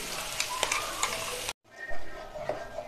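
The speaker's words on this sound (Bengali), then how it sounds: "এবার টমেটো, পেঁয়াজ, আদা, রসুনের পেস্টটা তেলেতে দিয়ে নিলাম" Tomato, onion, ginger and garlic paste sizzles in hot oil with bay leaves and dried chillies, with a stirring scrape and light clinks. There is a brief silent gap midway before the frying resumes, close and moderately quiet.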